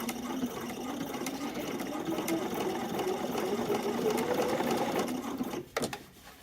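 A sewing machine runs a steady continuous stitching drone along a lace seam on a slip, with a rising hum that cuts off abruptly near the end, close and alone.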